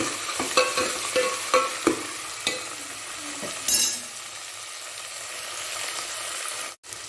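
Onions and tomatoes sizzle in a pan for fish kuzhambu, with a run of sharp stirring scrapes and clinks early on, then a quieter steady frying hiss and no talk.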